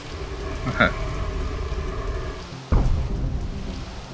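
Rain effect in the 2001 video game Legacy of Kain: Soul Reaver 2: a steady, loud hiss of falling rain that runs throughout, with a sharp crack partway through and a brief voice early on.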